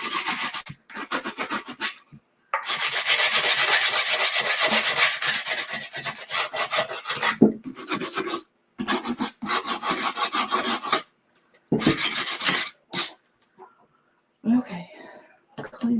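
Sandpaper rubbed over a drop-in box frame gives close, repeated raspy back-and-forth strokes in bursts separated by short pauses, with some soft speech nearby.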